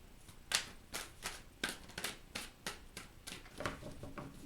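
Tarot cards being shuffled in a quiet room, a run of crisp riffling bursts repeating in a steady rhythm, close and moderately loud.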